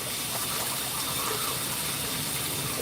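Water pouring into a container for an old pet turtle: a steady, close hissing gush of liquid without break, fairly quiet and with no voices.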